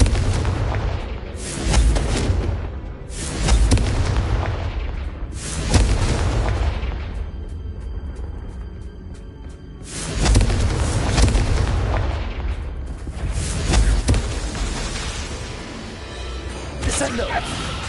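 Confringo fire spells in Hogwarts Legacy go off as a series of heavy, booming blasts, about five loud explosions spaced a few seconds apart, each with a rumbling tail.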